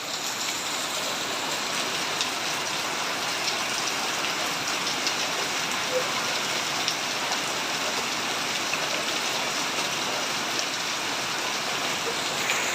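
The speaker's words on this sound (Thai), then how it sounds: "ตอนนี้ฝนตกแห้งหลายมันฝนมันสาดเข้ามาในที่นั่นนะครับ" Heavy summer storm rain in Tak province pours down in a steady, dense hiss of drops pattering on surfaces, continuous and fairly loud throughout with no voices.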